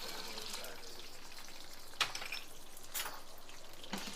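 Peanuts and green chillies frying in a pan for chutney, an even, close hiss of sizzling oil broken by a few sharp pops and crackles.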